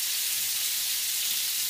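Meatballs frying in oil in a pan, a steady, close hiss of sizzling fat with no pauses and no talk.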